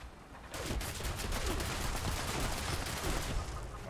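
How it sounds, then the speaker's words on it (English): Rapid continuous gunfire from a shotgun turret in Fallout 76, a dense run of repeated blasts lasting several seconds, loud and close with a slight echo. "Shotgun turret somewhere?"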